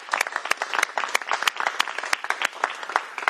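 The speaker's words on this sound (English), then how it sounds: "I think we should start with a round of applause for the Robert Eaglestaff Middle School Orchestra" Scattered, moderately sparse applause from an audience for a middle school orchestra, with individual sharp claps audible in an uneven rhythm, fairly quiet and without speech.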